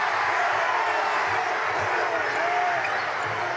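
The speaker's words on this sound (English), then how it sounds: "Well, this crowd's getting loud, Ben." A basketball arena crowd at a Conference USA tournament game between WKU and UAB swells into a broad, steady roar, with scattered shoes and bounces beneath and an announcer talking over it.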